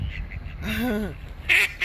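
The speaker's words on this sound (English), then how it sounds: "Oh, look at the geese." Geese calling outdoors at a boardwalk, a couple of loud, harmonic honking calls near the middle and end of a short stretch of ambient noise.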